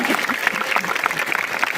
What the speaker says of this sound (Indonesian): Beri tepuk tangan untuk Ustaz Alif Asram.